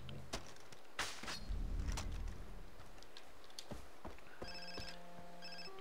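A phone rings in the Far Cry 3 video game, with steady repeated electronic ring tones in the second half, following scattered thumps, footsteps and game ambience.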